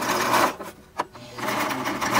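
A sewing machine stitches pillowcase fabric for a face mask, running in a fast steady whirring buzz that stops briefly with a click before starting again, close and loud.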